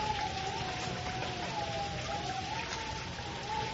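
Steady rain falls in a continuous, even patter with no other sounds, constant in loudness throughout.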